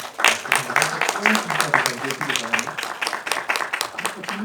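At the close of a social-enterprise training session, a small audience claps in distinct, fairly quick bursts, individual hand claps standing out rather than blending into a roar, with some voices mixed in.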